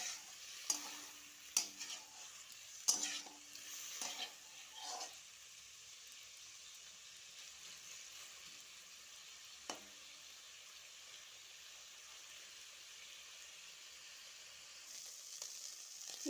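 Prawns sizzle in a hot kadai during chingudi jhola preparation, a steady soft frying hiss broken early on by a few sharp clinks and stirring knocks, then settling into a quiet, continuous sizzle.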